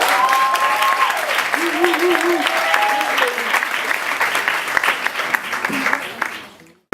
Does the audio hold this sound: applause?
yes